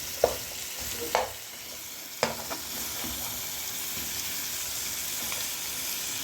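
Chicken feet fry in hot oil in a pot for a curry, giving a continuous steady sizzle and hiss, broken by a few sharp clunks of stirring or the pot being moved; no one speaks.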